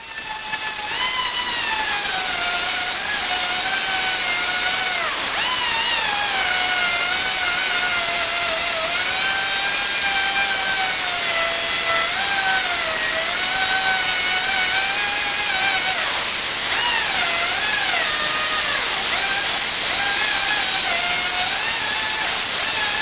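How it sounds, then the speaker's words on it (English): A power sander grinds smooth the metal of a trailer ramp door, its loud motor whine rising and dipping steadily as pressure shifts, running continuously and close. "When I come back, I'm showing me sanding them down."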